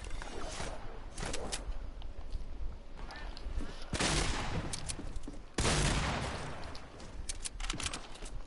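Video game shooter gunfire rattles in dense, noisy bursts, with two heavy volleys standing out amid continuous close-range shooting and faint chatter.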